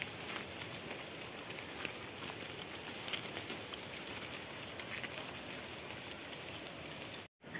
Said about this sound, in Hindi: बारिश हो रहा है अभी भी।